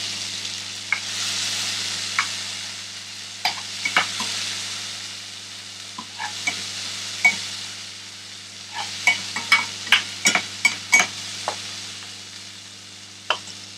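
Finely chopped tomato fries in a pan of chicken biryani base, a steady soft sizzle punctuated by sharp clicks and scrapes of stirring that cluster into a quick burst toward the end.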